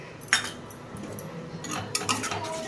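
Spice masala being stir-fried in a pan over medium heat for dahi bhindi, heard as sharp metal spoon scrapes and clinks against the pan in irregular bursts over a soft sizzle.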